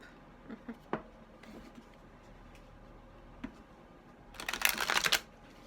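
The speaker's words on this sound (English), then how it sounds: "As always, I shuffle until I feel that inclination to stop." Tarot cards shuffled by hand, a few soft taps and flicks at first, then a louder burst of riffling near the end, close and quiet with no talking.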